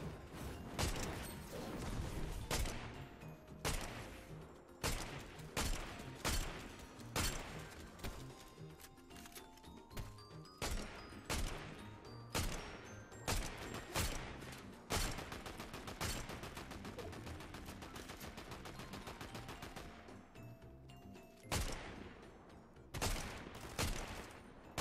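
Rapid gunfire from the video game Valorant cracks out in dense bursts and sharp single shots for nearly the whole stretch, loud and close, with a short lull near the end before more shots.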